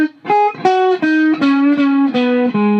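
A slow blues riff on electric guitar with distortion: a series of sustained, singing single notes with small slides, played alone and up close.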